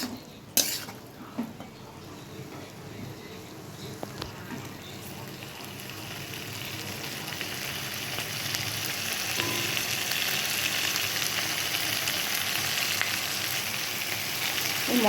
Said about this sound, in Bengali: মশলা কষানো হয়ে গেছে, ওরা পটলগুলো ছেড়ে দিলাম। এবার পটল দিয়ে ভালো করে কষাবো।